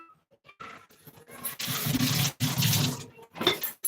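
Water runs and splashes into a container, as if poured for drinking, in a few close bursts of a second or so with short pauses between them, alone without any talk.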